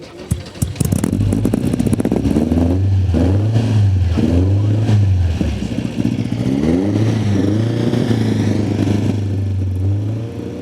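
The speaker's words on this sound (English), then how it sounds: "Definitely got that rally car rev." A 1973 Alpine Renault A110 1600S rally car engine revs loudly and close by, climbing and dropping through several throttle blips with a rough, clattery tone that runs almost without pause.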